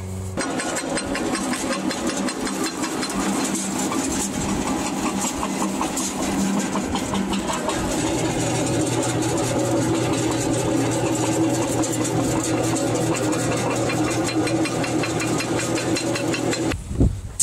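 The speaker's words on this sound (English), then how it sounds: "So I'm going to crush these through one of our little jaw crushers" A small jaw crusher breaks up solidified gold-bearing material, running as a steady, loud mechanical drone with a constant grinding rumble throughout before it stops near the end.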